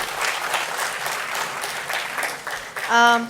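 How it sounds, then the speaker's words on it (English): Applause for a speaker at a tech summit in Bengaluru, a crowd clapping steadily before a voice briefly cuts in near the end. "Round of applause for Prayank, please,"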